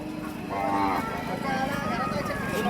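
A Khillar cow moos once, loud and close, a long low bellow over a busy background of murmuring voices and farm noise at the Sangola cattle market.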